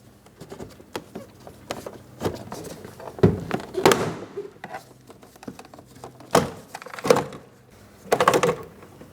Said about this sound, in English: I'm using my plastic trim tool.